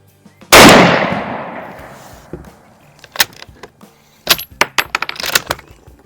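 A Mosin Nagant 7.62x54R rifle fires a single loud shot at a target, a sharp blast with a long decaying echo, followed by several clacks and metallic clicks of the bolt being worked.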